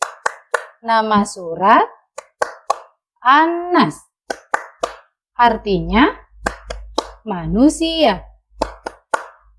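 Children's rhythmic clapping chant for Surah An-Nas, with sharp, close hand claps in quick bursts between sung and spoken phrases from a voice.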